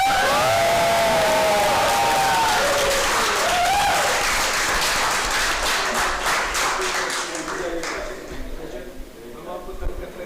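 A leadership-day audience bursts into loud applause with whoops and shouted cheers, voices rising over dense clapping that holds strong for several seconds before tapering off into scattered claps and murmurs.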